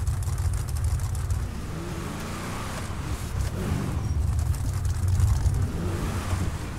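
Michael's car in GTA 5 drives off-road through snow with a steady, droning engine and a continuous rumble of tyres over rough ground, holding at a constant level throughout.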